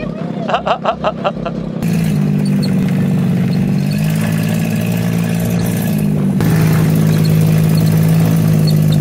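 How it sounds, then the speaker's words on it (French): A buggy engine runs steadily at the start of a ride in the Dominican Republic, a loud droning motor with gentle pitch shifts after some brief rattling at the start. "c'est parti pour la petite balade en buggy"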